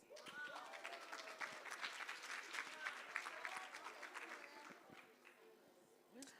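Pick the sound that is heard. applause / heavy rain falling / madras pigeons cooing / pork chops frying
applause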